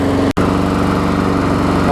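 A Briggs & Stratton lawn mower engine, freshly swapped onto a new deck, runs steadily at close range with an even, buzzing drone, broken once by a very brief cut near the start.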